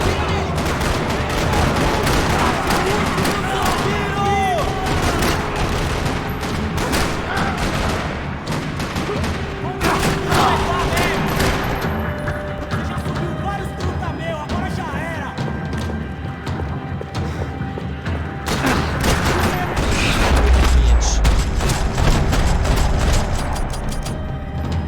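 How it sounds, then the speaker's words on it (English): Gunfire rattles through a parking lot in the video game Max Payne. Dense bursts of shots, crashes and impacts go on for about twenty-five seconds under a game soundtrack, with a heavy low boom near the end. "Another parking lot rattling with gunfire."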